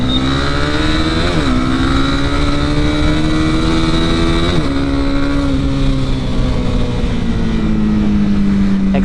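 A Honda CB 300R motorcycle engine roars loud and close throughout, rising steadily in pitch as it accelerates through the gears, with brief dips at each shift.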